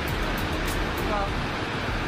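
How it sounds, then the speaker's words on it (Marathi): A waterfall at Harishchandragad in the Sahyadri hills roars as a steady, dense wash of broadband noise from start to end, with monsoon rain easing off. "खूप सुंदर असा धबधबा पाठीमागे तुम्हाला पाहायला मिळेल."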